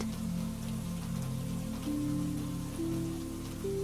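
Steady, gentle rain falls on forest leaves in an even, unbroken patter, soft and close, with no voices.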